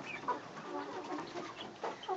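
A farm chicken gives soft clucks and brief chirpy calls up close, a few scattered vocalizations over faint outdoor background.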